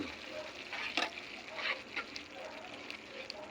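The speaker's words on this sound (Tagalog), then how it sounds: "Gigisa po natin yan na lalagyan natin ng itlog" Tomatoes sautéing in a pan with egg being added, a steady soft sizzle with a few brief stirring scrapes and clatters, close and moderately quiet throughout.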